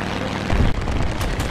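Aircraft engine in War Thunder realistic battles on the Sinai map: a loud, continuous low rumbling roar with a heavier surge midway, heard alone.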